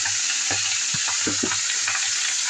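Bottle gourd sautéing in a pan with a little salt after cumin and bay leaf, giving a steady close sizzle with a few soft stirring scrapes and clinks.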